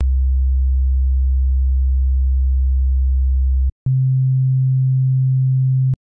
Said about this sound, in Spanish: es una forma de onda completamente simple, muy básica, es una onda senoidal